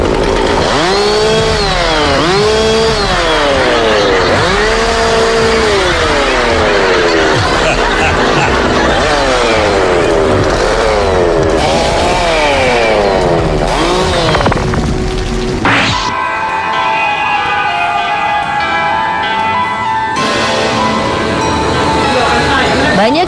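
A loud chainsaw revs in repeated rising and falling bursts during a horror-themed street prank, its motor whining up and down close by, with brief chatter and a clatter mixed in, then the engine settles into a steadier drone.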